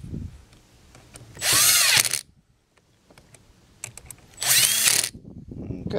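Power drill tightening screws on a 52cc brush cutter handle, two loud whirring bursts separated by a pause, with light handling clicks and knocks between them.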